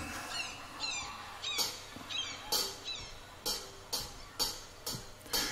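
Gulls cry in repeated squawking calls over a steady wash of surf and wind, with sharp bursts recurring every second or so.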